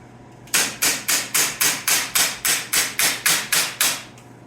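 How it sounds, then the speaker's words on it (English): Hammering on sheet metal for a custom patch panel on a 1929 jalopy shop truck: about a dozen loud, evenly spaced metallic blows in a steady rhythm. "Now we just need a hammer."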